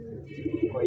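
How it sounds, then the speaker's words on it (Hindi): Ferozepuri pigeon cooing, a short soft low coo rolling in a few pulses, heard close by for under a second. "ये प्योर फिरोजपुरी कबूतर"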